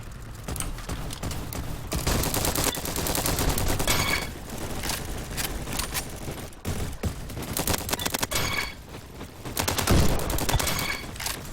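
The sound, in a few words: PP2000 submachine gun firing in video game Roblox Bad Business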